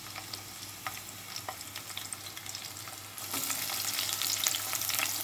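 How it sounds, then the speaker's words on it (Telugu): Chopped onions dropped into hot oil for a Telugu okra stew sizzle steadily, the frying hiss jumping louder partway through and then holding a dense, crackling sizzle with no voices. "నూనె వేడైంది, ఉల్లిపాయ వేయాలి."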